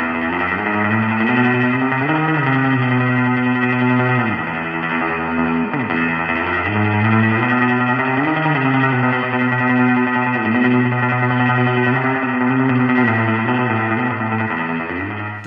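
Electric guitar played through a DSP spring reverb algorithm modeled on a coiled-wire spring tank, sustained chords ringing continuously with a splashy, echoing wash and gliding pitch bends, loud and steady for the whole stretch.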